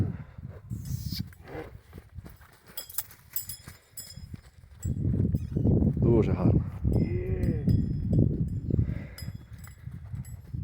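A black stallion brought out for breeding, its hooves clip-clopping at close range beneath steady conversation from several men, with a louder stretch of talk in the second half.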